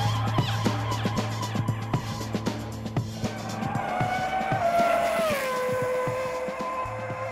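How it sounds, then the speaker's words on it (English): A Formula One race car spins donuts in India, its engine revving hard with a loud, sustained tire squeal and rising, falling pitch sweeps. The screeching and engine roar continue for the whole stretch, close and dominant. "sound of the engine is unbelievable. When he was doing donuts all around and there was smoke"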